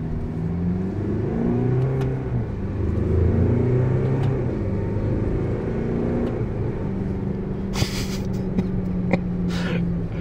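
Alfa Romeo Giulia 2.2 diesel with 160 hp revving up under acceleration, a steady, loud engine drone with rising and falling tonal bands and faint clicks near the end.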